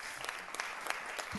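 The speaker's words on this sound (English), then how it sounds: "think a round of applause is quite appropriate" A short burst of steady clapping from people at a board meeting, faint and even, lasting only a moment.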